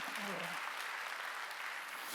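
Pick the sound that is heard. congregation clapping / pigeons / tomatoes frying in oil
congregation clapping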